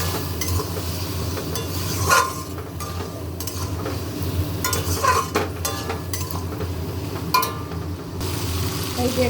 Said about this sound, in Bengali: গরম মশলা দিলাম আর একটুখানি একটু জল দিচ্ছি, যাতে ভালো করে আর একটু কষবো।